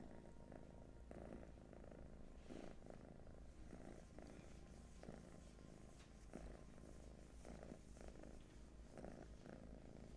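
A cat purrs steadily while held in its owner's arm, a low continuous rumbling close up with soft pulsing rhythm throughout, no talking over it.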